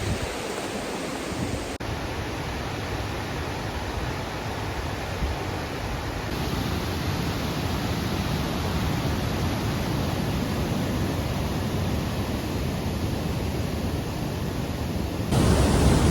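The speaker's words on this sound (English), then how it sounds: "This is not even the main waterfall, but this is already pretty amazing." A waterfall along a trail at Baños de Agua Santa roars as a loud, constant broadband wash close by, growing heavier near the end, with no voices.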